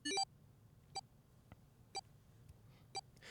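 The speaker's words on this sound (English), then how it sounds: "His bracelet gave a cold electronic beep." A bracelet gives cold electronic beeps: an opening flurry of quick tones, then single short beeps about once a second, clear and close over a faint low hum.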